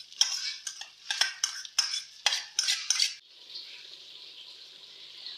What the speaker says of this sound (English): I'm now frying my onions.